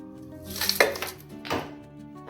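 Ice cubes dropped into a mixer jar for watermelon juice: two hard, clattering knocks of ice against the jar, close and fairly loud, over a quiet kitchen background.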